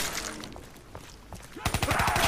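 Gunfire in Black Ops 3 Zombies, played on PC: a busy, mid-level wash of game noise that gives way to a rapid, evenly spaced burst of automatic shots near the end.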